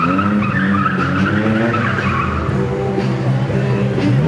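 Car tires skid and squeal continuously at a drift competition in Kyustendil, a loud sustained screech with engine roar throughout, close and unbroken, with no talk.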